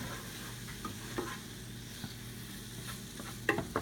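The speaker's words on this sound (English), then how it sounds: "let's watch you stir that up" Vegan egg scramble being stirred in a Gotham Steel copper-style nonstick pan, a quiet steady sizzle with a few soft scraping taps of the utensil scattered through, close and low in level.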